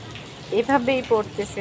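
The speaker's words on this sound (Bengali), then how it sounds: "দেখুন আমাদের এখানে আজকে 3 দিন যাবত এভাবেই বৃষ্টি পড়তেছে" Steady, faint rain hiss runs throughout, with a person talking over it for most of the clip.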